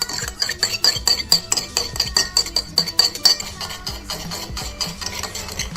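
Eggs whisked with milk, pepper, paprika and salt in a bowl, a steady rapid rhythm of utensil clinks and scrapes against the dish, close and fairly loud with no talk.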